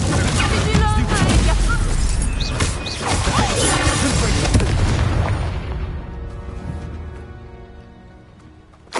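A Confringo spell explosion in Hogwarts Legacy bursts as a loud, deep boom with crackling debris and rumble, then gradually decays over several seconds, with voices talking over the blast.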